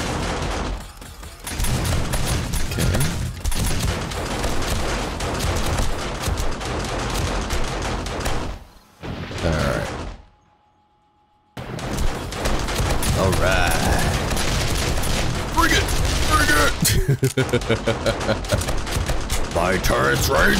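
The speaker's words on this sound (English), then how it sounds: "the shell turret is having to use a lot less shells to kill stuff than him" Shell turrets in the 7 Days To Die video game blast away at zombies during horde night, loud rapid bursts of gunfire that run nearly nonstop, break off for a brief silent gap, then resume, with a player talking throughout.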